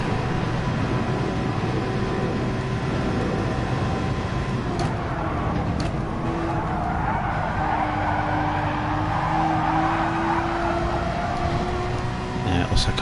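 A GT3 race car in a racing video game braking into a corner, engine note dropping through downshifts as tyres squeal and scrub, loud and continuous with other cars audible nearby.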